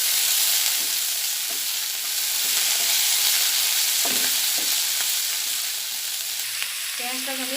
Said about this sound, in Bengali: পেঁয়াজটাকে আমি লাল করে ভেজে নেব। পেঁয়াজটা লাল হওয়া না পর্যন্ত আমি ভাজতে থাকবো।